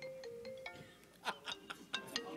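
A mobile phone ringtone goes off during a speech at a touchdown club luncheon in Little Rock: a faint melodic tone sequence sounds over a murmuring room, followed by scattered bright chimes and clinks.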